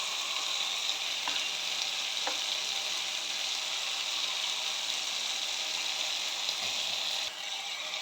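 Potatoes fry with homemade garam masala in a pan, a steady, close sizzle that continues without a break, with faint stirring scrapes and no talk.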